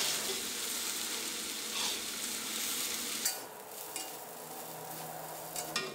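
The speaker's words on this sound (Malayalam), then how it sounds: "ഇതിലേക്ക് വേവിച്ച് വെച്ചേക്കണ നൂഡിൽസ് ചേർക്കാം. ഇതെല്ലാം കൂടിയിട്ട് നന്നായിട്ടൊന്ന് മിക്സ് ചെയ്യാം." Cooked noodles and vegetables stir-fried in a pan give a steady, close sizzle for the whole stretch, with soft scraping and a few light utensil clinks as everything is tossed together.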